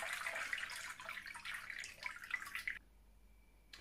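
Homemade oat milk trickling and dripping through a strainer, a close, continuous patter of small liquid drops that stops abruptly near the end, leaving quiet.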